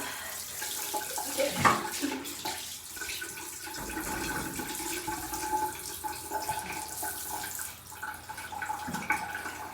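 Shower water runs steadily over a cat being washed, a continuous splashing spray that stays fairly loud throughout, with a brief sharper splash near the start and no talking.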